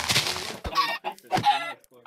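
Chickens cluck in a Minecraft game, a series of close, loud, choppy squawks and clucks in uneven bursts.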